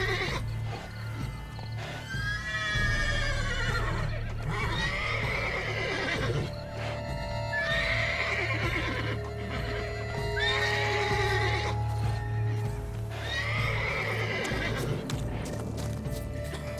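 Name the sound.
horse neighing and hooves in video game Witcher 3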